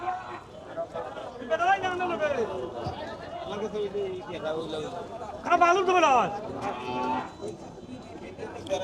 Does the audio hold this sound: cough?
no